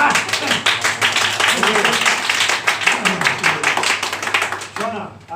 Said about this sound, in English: Better clap